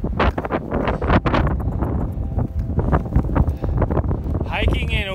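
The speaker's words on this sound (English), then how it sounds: "It's so windy." Strong wind on the Pacific Crest Trail near a wind farm by Tehachapi buffets the microphone in a constant roaring rush, with gusty low rumbles throughout and a brief voice near the end.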